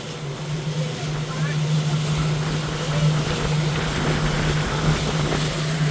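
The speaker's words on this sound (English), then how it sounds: "the life in a pontoon boat" A pontoon boat motor cruises at low speed on a lake, a steady low drone under heavy wind buffeting and water rush across the whole stretch.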